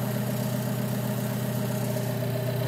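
A steady, loud idle from an Alfa Romeo 4C sports car engine, a continuous low hum and drone with constant mechanical vibration and no pauses, heard up close from inside the car.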